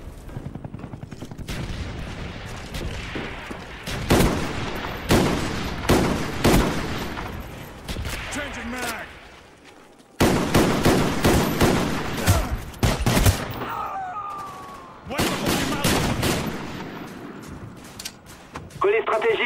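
Game-audio gunfire and mortar fire from Black Ops rings out in a dense, loud run of rapid shots and booms, with a short lull near the middle. Intermittent voices mix in with the shooting.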